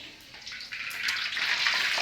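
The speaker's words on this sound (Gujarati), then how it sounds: "અમારા જ્યોતિબેન પૂરી તળી રહ્યા છે." Puris deep-frying in hot oil for a Rishi Panchami fasting meal at a village outdoor picnic, giving a steady bright sizzling hiss that grows a little louder and denser partway through, with no talking.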